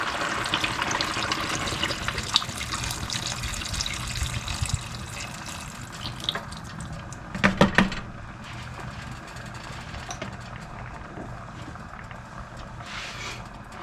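Red wine, about 500 millilitres of inexpensive bottle, poured into a pot of beef shank Burgundy stew, a steady gurgling stream running for several seconds with a brief burst of clinking midway.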